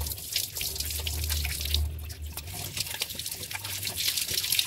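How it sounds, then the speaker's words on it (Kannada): Tap water runs steadily from a faucet into a sink while a tea strainer is rinsed, a continuous close splashing hiss with small drips, no voices. "ಈಗ ನಾವು ಇದನ್ನು ಟ್ಯಾಪ್ ವಾಟ್ರಲ್ಲಿ ಕ್ಲೀನ್ ಮಾಡ್ಕೊಳ್ಳೋಣ."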